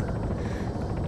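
A helicopter flies in the video game Arma 3 Altis Life, a dense continuous rotor and engine roar with a fast regular thrumming pulse, close, loud and steady throughout with no talking.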